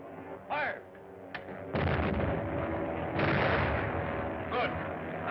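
A volley of gunfire rings out in a 1938 crime serial, several loud sharp shots layered into a sustained rattling burst, with faint voices and whistling tones around it.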